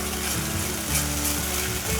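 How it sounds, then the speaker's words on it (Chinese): Celery stir-frying in a little olive oil in a flat frying pan, a steady close sizzle and crackle running throughout with low rumbling stirring underneath. "把芹菜炒香"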